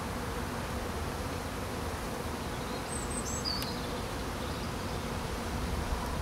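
Honeybees buzzing steadily during a March hive inspection, a dense continuous drone close by with a few louder individual bees passing near midway, no talking.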